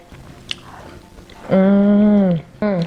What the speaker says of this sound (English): Let's bite some of that puff puff. Do you hear that crunch on the outside, fluffy on the inside?